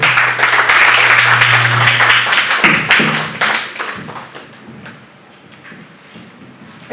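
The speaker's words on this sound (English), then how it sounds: "Another round of applause." Audience applause at a handbook launch event fills the first half strongly, with a low steady hum underneath, then fades into scattered claps and taps before dying away.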